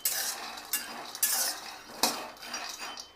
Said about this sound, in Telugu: ఈ వేరుశనగ పప్పు మీడియం ఫ్లేమ్లో పెట్టుకొని చక్కగా వేయించుకోవాలి.